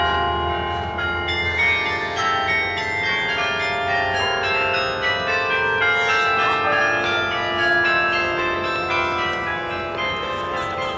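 Church bells tolling on the Catholic University of America campus near McMahon Hall, rich ringing tones overlapping and sustained, fairly loud and continuous throughout, heard outdoors with no talk.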